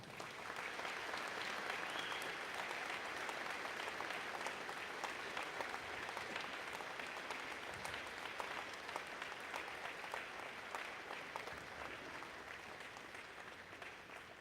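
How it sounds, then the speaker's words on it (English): Audience at a school prize day ceremony giving a sustained round of applause, a dense, even wash of many hands clapping that holds steady and slowly tapers, heard from a distance without voices. "we can offer a round of applause"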